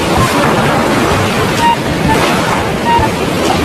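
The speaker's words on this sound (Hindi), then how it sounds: "बीच में ही बहुत जोर का तूफान और बारिश आ जाती है।" Heavy storm and rain effect in a Hindi cartoon story, a dense, steady roar of wind and pouring water like surf, loud and continuous throughout with no talk.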